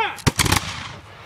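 Reenactors at Fort Loudon fire a volley of muskets on command, a sharp close crack followed by a ragged burst of several shots that rings out and decays.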